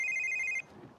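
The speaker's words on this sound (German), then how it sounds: "Oh, geh doch mal ans Telefon." A telephone in The Sims 3 rings with a bright electronic trill, loud and steady for about half a second before cutting off, leaving only faint background murmur.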